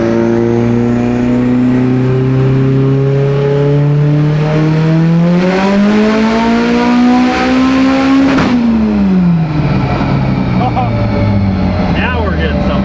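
Turbocharged 2.4L Mitsubishi Evo engine with a Precision 6466 turbo on a dyno pull, a loud sustained roar climbing in pitch, peaking, then dropping as the throttle closes, with turbo whoosh and crackle afterward.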